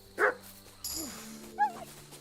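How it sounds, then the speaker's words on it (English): A dog in Kingdom Come: Deliverance II gives a few short, fairly quiet barks and yips, spaced out with brief pauses and a faint whine between them. "That's my dog."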